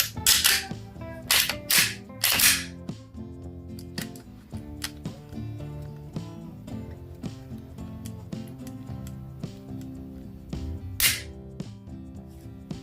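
A Glock 44 slide is handled and fitted back onto the pistol frame, a series of sharp close metallic clicks and snaps, louder at first and then lighter rattles, with no talking.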